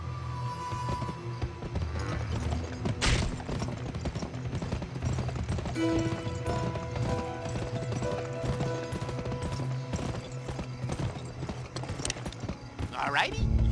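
A horse gallops in the western video game GUN, its hooves beating a fast, steady clip-clop rhythm up close throughout, with a brief whinny and someone talking over it at times.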